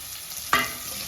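Small onions, green chillies and curry leaves fry in hot oil with a soft continuous sizzle and one brief stirring scrape, heard up close without any speech.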